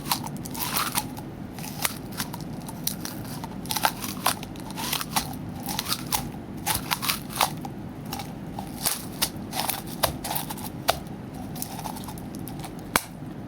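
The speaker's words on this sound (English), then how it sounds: "Now if I squeeze it, you can hear it crackling." Frozen Sparkling Ice soda crackles and crunches inside a plastic bottle as it is squeezed, a steady run of close, sharp ice cracks and snaps over a low handling rumble, with no talk.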